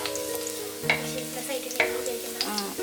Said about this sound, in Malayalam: ചൂടാകുമ്പോൾ വെളുത്തുള്ളി ഇട്ട് കൊടുക്കുക